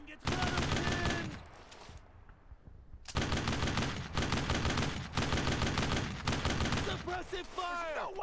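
Suppressive machine gun fire in the World War II video game Brothers in Arms: Road to Hill 30 on D-Day, with loud sustained automatic bursts, a short pause, then further long rattling volleys and shouting voices near the end.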